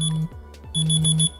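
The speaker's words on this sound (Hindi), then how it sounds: "तो आपका फ़ोन वाइब्रेट करेगा और बीप बीप साउंड करेगा" A smartphone beeps from a smartwatch's find-phone function, two sustained electronic alarm tones, the second longer, with a short gap between them, loud and close with no talk.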